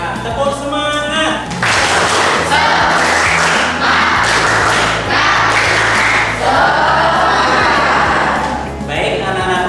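Schoolchildren in a classroom loudly perform a rhythmic spirit clap (tepuk semangat), steady clapping with chanted voices running throughout.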